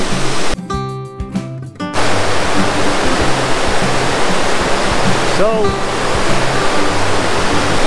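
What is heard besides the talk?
rushing river water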